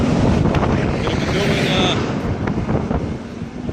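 Strong gusts buffet an outdoor microphone on a very windy day in Cambridge, a continuous loud roar under a person talking nearby.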